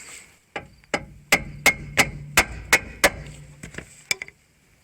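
A wrench is tapped to pop a Subaru ball joint loose, giving about a dozen sharp metallic knocks at a steady, fairly quick pace, close by, with the final taps lighter and quicker.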